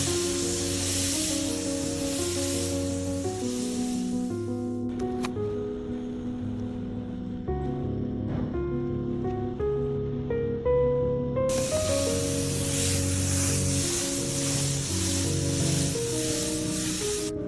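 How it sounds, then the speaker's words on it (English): A spray gun applies an anti-explosion protective coating to an egg, giving a steady hissing spray in two long bursts separated by a pause, with music playing underneath. "Now the key step, 360 precision spraying, every angle fully coated,"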